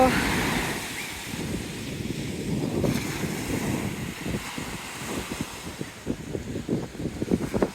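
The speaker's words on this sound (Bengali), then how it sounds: "উত্তাল সমুদ্র" Rough sea waves breaking on a beach on the Isle of Wight, a continuous roaring wash of surf mixed with strong wind buffeting the microphone, loud and close, without speech.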